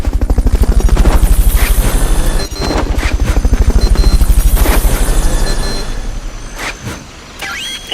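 A loud, steady rotor thump chops rapidly throughout, a recovery helicopter close by in Metal Gear Solid: Peace Walker, fading somewhat toward the end.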